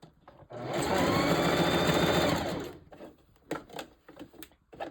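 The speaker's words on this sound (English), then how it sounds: "Sewing, making sure your needle is hitting above." A sewing machine stitches tracks onto a mesh dome cap in one loud, steady burst of about two seconds, then stops, followed by a few faint handling clicks and knocks.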